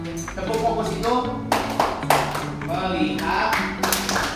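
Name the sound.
class clapping rhythm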